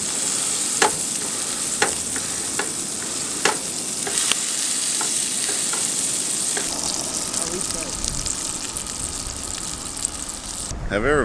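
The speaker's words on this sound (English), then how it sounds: "I am going to be cooking everybody breakfast sandwiches this morning" Breakfast sandwiches frying in a pan at a riverside campsite in Central Oregon, a steady close sizzle with a few sharp clicks and scrapes of utensils, continuous throughout and ending in a brief clatter.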